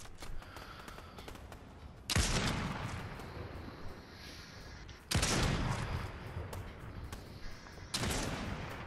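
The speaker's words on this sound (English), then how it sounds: "Who's shooting at me?" Gunfire in the Fortnite video game comes in three loud, sharp bursts spaced a few seconds apart, each with a lingering rumble, over a low game background.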